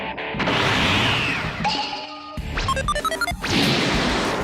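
A scouter shatters in a Dragon Ball animation, heard as a loud crash with bright glassy and electronic tones, followed by a rapid burst of clicking, stuttering digital sounds.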